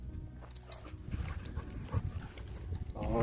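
A dog whimpering on a hike through Montana badlands, soft high whines and yips scattered over outdoor rustling, with a voice briefly audible near the end.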